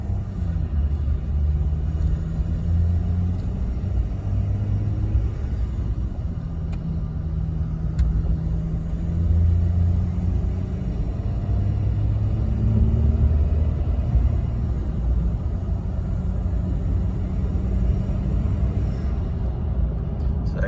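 Cabin sound of a 2014-2018 Ram 1500 with the 3.0L EcoDiesel engine and an aFe Magnum Force Stage 2 cold air intake, heard from inside the truck: a steady low rumble and drone, with no talking.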